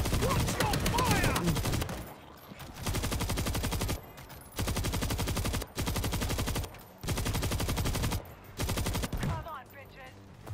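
Sustained bursts of automatic gunfire in the zombie shooter World War Z, loud and nearly continuous with short gaps between volleys, as players call out over the shooting.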